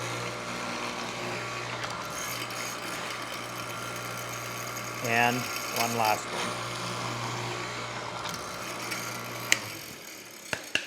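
A steady mechanical hum of a hollow chisel mortiser runs throughout while it cuts into wood, with a short spoken remark partway through.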